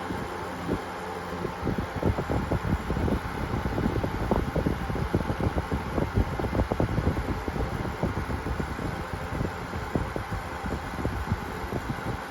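Steady broadband whoosh of a Honeywell electric fan running continuously at close range, with a dense flutter of irregular low thumps from air buffeting the microphone throughout.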